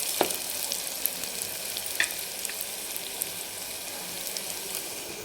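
Mutton fat frying with turmeric in a pan, a steady close crackling hiss with a few sharp pops and stirring scrapes throughout, no voices.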